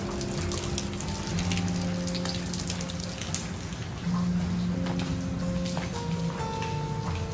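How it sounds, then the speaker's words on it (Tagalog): Steady rain falls in a dense, continuous wash, probably striking nearby surfaces, with no voices over it. "Ang ulan dito sa ano namin."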